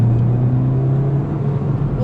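A Mountune MR265 Ford Fiesta ST with a 265 hp tuned engine drones steadily under load while driving, a constant low hum heard from inside the cabin with no voices.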